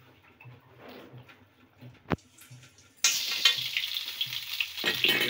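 Carrots drop into hot ghee for a home-made gajar halva. After quiet kitchen sounds and a sharp knock, a loud, bright sizzle bursts in and keeps crackling to the end.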